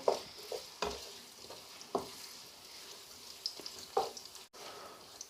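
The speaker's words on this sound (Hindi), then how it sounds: "अब मैं इसमें जो ये 2 अदद प्याज थे ये मैं डाल दूंगा और प्याज को मैं हल्का ब्राउन कर लूँगा।" Two onions fry in hot oil in a pan for aloo gobi, a soft background sizzle punctuated by several distinct spoon stirs and scrapes at irregular intervals, quiet and close with no talking.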